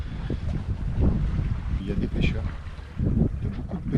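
A sailboat runs under sail on the open Atlantic, with steady wind buffeting the microphone and water rushing and slapping along the hull, loud and close, while a voice speaks faintly.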